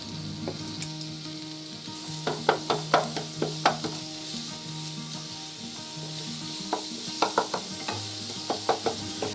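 Tomato and spices fry in a pan for a fish dish, giving a continuous close sizzle broken by repeated scraping and tapping strokes from a stirring spoon, moderately loud and without any voices.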